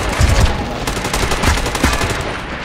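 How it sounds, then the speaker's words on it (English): Rapid bursts of automatic gunfire in the online shooter MAG, loud and close, with dense overlapping shots across a noisy battlefield mix. "Are you fucking shooting me?"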